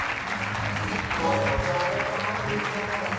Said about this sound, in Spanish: más fuerte ese aplauso